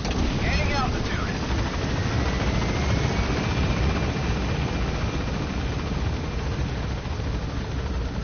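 In Metal Gear Solid V, a helicopter gains altitude with a steady, dense rotor and engine roar that stays constant and close throughout.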